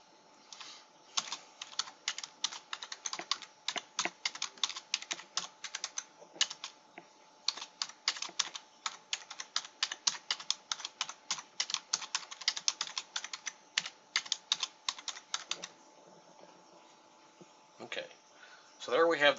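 Fast, continuous typing on a computer keyboard, a rapid stream of light clicks in bursts with brief pauses, close and clear with no talking.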